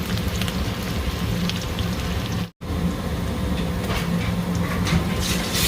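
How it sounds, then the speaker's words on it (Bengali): Onions and curry leaves sizzle in a hot pan with a dense, continuous crackle, broken by one very brief gap. "পেঁয়াজটা একটু হালকা ভালো করে ভেজে নেব"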